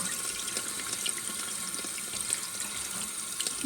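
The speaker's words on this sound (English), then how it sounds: "So slowly we're gonna turn on this water supply valve." Water rushes steadily into a toilet tank with a soft, continuous hiss, faint and unbroken throughout, after the supply valve is opened.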